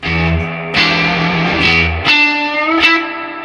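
Electric guitar played through a Fender 65 Deluxe Reverb reissue amp, a few loud distorted chords and notes struck in sequence, each ringing out with heavy reverb tails.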